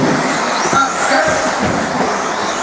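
Off-road 1/10-scale racing cars tear around a dirt track at speed, a loud, continuous motor roar and whine close by, with no pauses.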